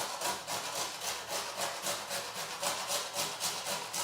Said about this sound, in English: what I'm also going to do is grate some nutmeg in there